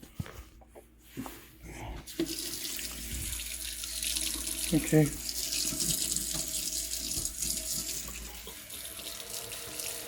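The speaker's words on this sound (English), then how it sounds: "Now we're going to test the hot water tap." Hot water tap running into a sink with a steady hiss and splash, starting after a short quiet pause, near and moderately loud, with a brief spoken word at the start and a faint thud midway.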